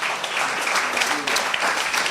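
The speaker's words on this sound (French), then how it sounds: "Je pense qu'on peut vraiment applaudir notre frère pour la bénédiction qu'il nous a apportée ce soir." Brief burst of audience applause at an evening church gathering, a dense crackle of many hands clapping at moderate distance.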